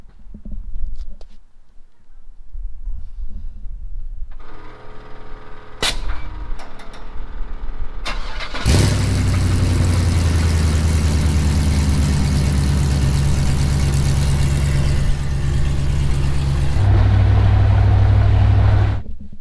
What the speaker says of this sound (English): That S15 cold start.